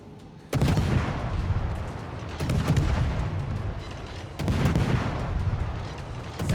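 Warship artillery fire in World of Warships, three heavy booming salvos spaced a couple of seconds apart, each sharp onset followed by a long rumbling roar, loud and close with no talking.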